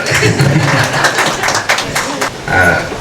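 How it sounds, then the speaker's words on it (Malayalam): Family members at an engagement ceremony clap together in a short burst of applause close by, and people talk under the clapping. "കയ്യടി പ്രത്യേകം ആ കുടുംബത്തിൻ്റെ ഒരു കയ്യടിയാണ്."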